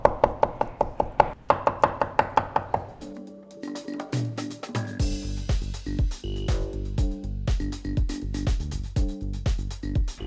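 A knife minces pressure-cooked pig intestine and ear on a board, first in quick, evenly spaced chops, then in irregular firm cuts, all close and crisp over steady background music.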